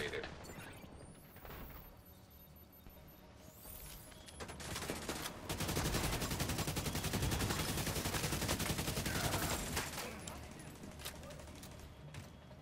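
Turrets in a video game fire steadily, a dense stream of rapid shots swelling louder in the middle stretch against background game noise and a faint voice.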